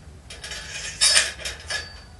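A Honda motorcycle fork inner bushing is handled and set down on a hard surface, giving a few short metallic clinks and scrapes close by, with no voices.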